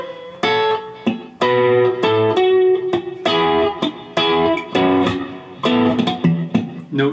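Slow acoustic guitar passage, played live-style: repeated chord strums and plucked notes in several distinct bursts, with a sharp percussive slap on the body between phrases, close and clear with no talking.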